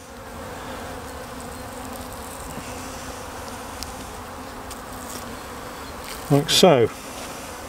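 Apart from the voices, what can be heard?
honeybees at a pollen substitute patty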